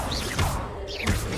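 Confringo spell cast in the Hogwarts Legacy video game, a loud, dense burst of whooshing, crashing effect noise that swells twice in quick succession.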